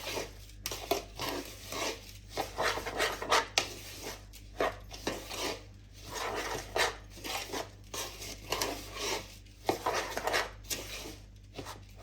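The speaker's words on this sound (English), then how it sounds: "give it a really good stir. You want the butter soaking into the oats." Oats and butter are stirred in a bowl for flapjacks, with repeated close scraping and rubbing strokes in an uneven rhythm, each burst separated by short pauses.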